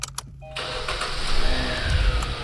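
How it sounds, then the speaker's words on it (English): A Kia car's engine starting: a few brief clicks, then the starter cranks and the engine catches and settles into a rising, steady idle rumble, close by. "You start the car."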